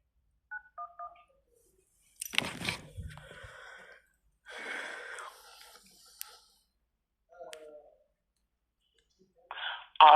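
A few short touch-tone beeps from a telephone keypad dialing 911, quick and close, followed by clicks, rustling and breathing, then voices on the line and a final burst of tones.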